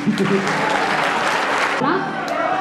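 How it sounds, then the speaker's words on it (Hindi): An audience claps at a Hindi poetry gathering after a sung verse, a dense round of applause that thins out after a couple of seconds. "ताली बजाइए"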